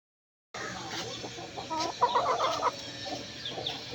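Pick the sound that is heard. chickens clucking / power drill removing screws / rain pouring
chickens clucking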